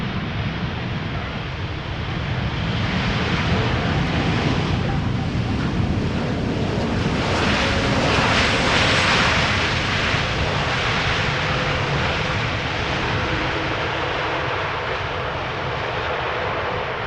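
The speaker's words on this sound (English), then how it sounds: "KLM flight 696. Arriving from Toronto, 7879 Dreamliner" A KLM Boeing 787-9 Dreamliner arriving at Amsterdam Schiphol from Toronto: a sustained, loud, wide engine roar that peaks midway as it passes close, with some wind buffeting on the microphone.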